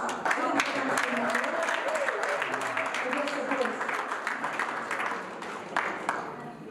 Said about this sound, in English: So please, round of applause to those Eritreans.